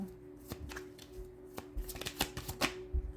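Tarot cards shuffled and drawn by hand, a run of crisp riffling flicks and soft slaps in close, quiet surroundings, with no talk over them.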